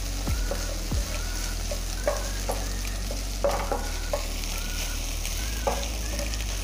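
Chili and garlic stir-fried in a pan for Thai pork ball kaprao, a close constant sizzle punctuated by repeated scraping strokes of a spatula against the pan.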